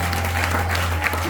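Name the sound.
congregation applauding the Lord in church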